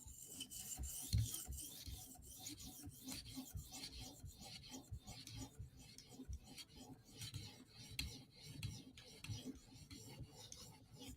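A knife blade is drawn in steady, rhythmic strokes over a 2000 grit sharpening stone on a TSProf Kadet guided sharpener, a close, fairly quiet rasping scrape repeating evenly with no voices.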